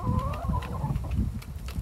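Chickens clucking while eating quinoa, soft low murmuring clucks with a brief higher cackle near the start, close by and fairly quiet throughout.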